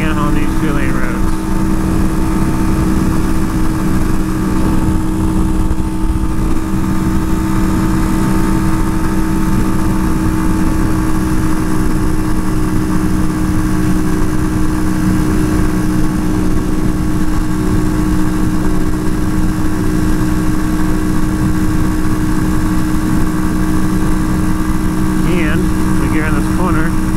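A Janus Phoenix 250 motorcycle cruises along a two-lane road in the Columbia River Gorge, its engine a loud, unbroken droning hum blended with rushing wind throughout.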